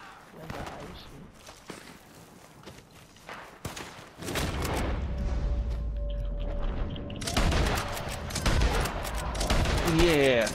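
Video game gunfire, scattered single shots at first, then a sustained heavy volley with rumbling booms that grows louder toward the end, with voices talking over it.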